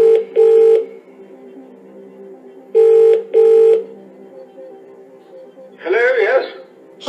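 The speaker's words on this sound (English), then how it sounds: "Okay, you want to phone a friend. Now let's call them" Dialing tones from the phone-a-friend lifeline in the Who Wants to Be a Millionaire Junior PC game: two short bursts of paired electronic beeps, a pause, then two more, followed by a brief synthetic voice-like sound near the end.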